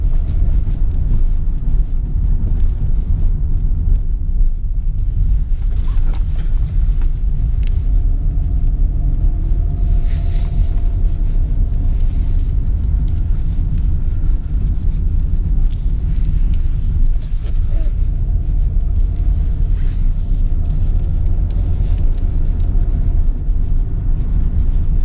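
A 1988 Nissan Cefiro driving on the road: a loud, steady low rumble of engine and tire noise with wind buffeting the interior, constant throughout with no talking.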